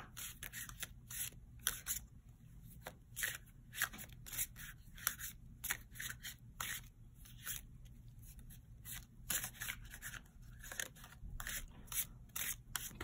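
Soft, repeated papery shuffling and flicking of tarot cards in quick bursts, close and fairly quiet, with short pauses between.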